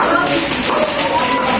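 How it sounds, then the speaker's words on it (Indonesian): Students in a classroom applaud a presenting group with a dense, continuous wash of clapping, loud and close throughout the brief moment. "Oke, tepuk tangan untuk kelompok 3."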